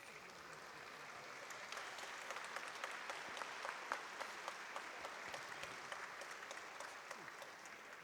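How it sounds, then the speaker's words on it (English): A judo arena crowd applauds after an under-100-kilo bronze medal bout, with continuous, fairly distant clapping that holds steady throughout. "There's good applause because the crowd recognizes super technique"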